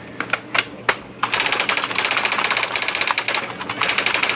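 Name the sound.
IBM Wheelwriter electronic typewriter printing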